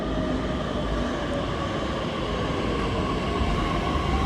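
A Pune metro train pulling into a station, a steady loud rumble and rolling hum with a faint tonal whine running throughout, close by and without talk.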